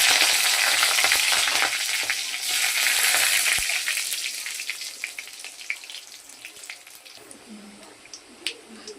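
Green chilies, dried red chilies and whole spices such as cinnamon and nigella seeds hitting hot oil, giving a loud, dense sizzle that slowly settles into quieter crackling and popping, close up with no talking.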